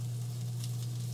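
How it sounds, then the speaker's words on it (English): Chopped salmon cakes land in a sizzling cauliflower mixture in a pan, giving a brief, steady, soft frying hiss over a low background hum. "I'm just going to dump it right into the cauliflower mixture."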